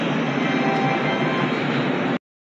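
A train at Lucknow railway station gives a steady, loud broadband rumble of rail noise that holds evenly for about two seconds, then cuts off abruptly into silence.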